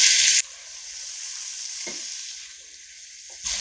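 Chicken and spices for a dhaba-style chicken aloo shorba sizzle in a pan as they are stirred. Loud bursts of frying come at the start and end, with quieter steady sizzling between them.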